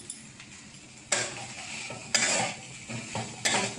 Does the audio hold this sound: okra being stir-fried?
yes